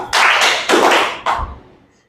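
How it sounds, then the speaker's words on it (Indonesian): A classroom group claps hands in unison twice, two loud sharp bursts of many hands together, close and alone with no talking, then fading out. "Tepuk 2."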